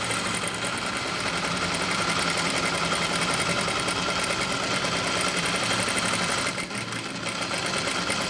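A sewing machine runs a steady, continuous row of basting stitches across light fabric, a close, even mechanical whir with a slight dip near the end and no talking.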